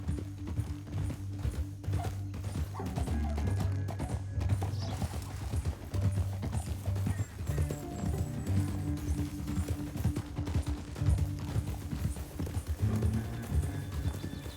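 Horse hooves clip-clop steadily at a ride in the Red Dead Redemption 2 video game, a continuous rhythmic trot with occasional whinnies over low music and background ambience.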